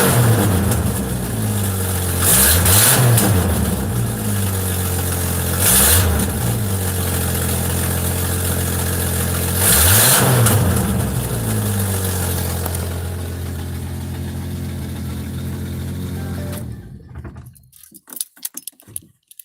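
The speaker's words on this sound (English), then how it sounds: "for all who love a little bit of hot rodding, hang on. Sounds of the 70s" A 1970s-style hot rod engine idles with a loud, lumpy rumble close by, blipped into three short revving surges before settling and then cutting off near the end.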